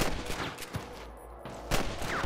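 Gunfire in the Western video game Red Dead Redemption: two sharp shots, one near the start and one at about 1.75 seconds, over continuous game ambience.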